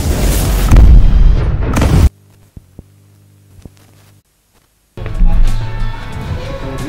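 A firework goes off with a long, loud roaring burst, followed by a quiet hum with a few small pops, then another heavy blast of noise.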